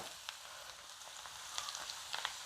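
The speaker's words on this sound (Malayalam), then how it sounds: "നമ്മുടെ എണ്ണ ചൂടായിട്ടുണ്ട് നമ്മുടെ കോവയ്ക്കൊക്കെ നമുക്കൊന്ന് കുറേശ്ശെ ഇട്ട് കൊടുക്കാം" Pieces of ivy gourd frying in hot oil give a steady, close, bright sizzle with small pops and crackles scattered through it, with no voices.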